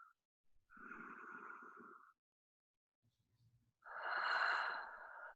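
Two long, slow, deep breaths during a yoga session, a soft airy exhale and then a fuller, louder breath after a quiet gap, close and audible with no speech over them.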